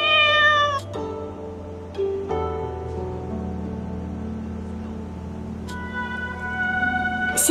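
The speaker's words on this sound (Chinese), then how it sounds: "这里竟然有只小猫" A small cat in the martial-arts game Moonlight Blade gives a clear, close meow, then a couple of shorter mews over soft ambient background tones, with no talk.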